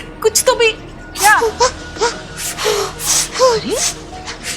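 A young child cries in a Hindi TV drama scene, with choppy sobbing gasps and rising whimpering wails that come in repeated bursts, mixed with voices.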